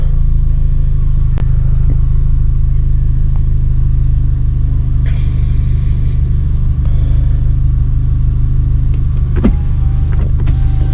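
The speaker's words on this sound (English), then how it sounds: "The car's fired up." An Audi with the BWA TFSI engine idles steadily just after starting, a constant low rumble with a few faint clicks and whirs on top and no voices.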